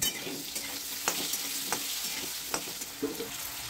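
Potatoes frying in a pan with turmeric and salt: a steady, close sizzle with occasional soft clicks of stirring throughout.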